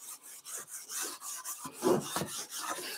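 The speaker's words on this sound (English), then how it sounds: "I'm just going to rub this here lightly. And rub the grease in here lightly." A napkin rubs grease lightly into a cast iron pan, giving soft, uneven scrubbing strokes in a quick repeated rhythm, close and fairly quiet, with no talking.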